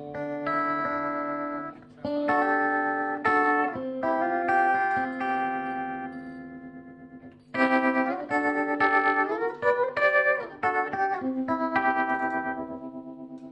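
Electric guitar played through a Fender Super Champ XD amp with chorus, delay and reverb effects, ringing chords and notes in two loud phrases with shimmering, echoing tails and no talk.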